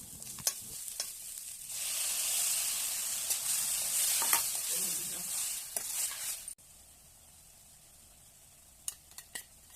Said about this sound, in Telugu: అల్లం వెల్లుల్లి పేస్ట్ వేసుకొని కొద్దిగా పసుపు వేసి ముందుగా కట్ చేసి పెట్టుకున్న టమాటా ముక్కల్ని వేసి కలుపుకొని ఒక 5 నిమిషాలు ఉడకనివ్వాలి